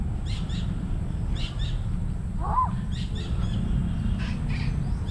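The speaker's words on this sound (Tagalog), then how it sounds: "Oh, may ibon pa." Out on a farm, a bird gives a brief call over a steady backdrop of insect buzz and rustling, with faint high chirps scattered around it.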